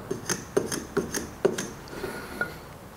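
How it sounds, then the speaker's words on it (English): Hand tool chamfering the edges of wooden shoji tenons, giving a series of short, crisp scraping strokes in an irregular rhythm, close and fairly clear with no talking. "Once we've finished chamfering the tenons"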